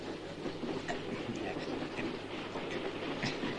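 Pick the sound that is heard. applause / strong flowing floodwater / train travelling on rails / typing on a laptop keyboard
train travelling on rails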